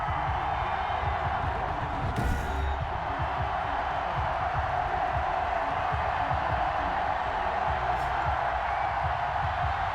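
A sold-out Heinz Field crowd murmurs and roars steadily in Madden 21 as the Steelers prepare to face the Browns. The broad, continuous stadium din holds at an even level throughout, with no clear voices standing out.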